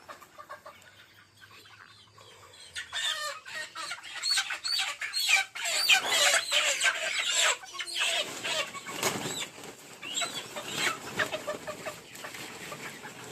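Chickens flap their wings in bursts and cluck as they are loaded into sacks for weighing and sale. The commotion is close and rises and falls in flurries.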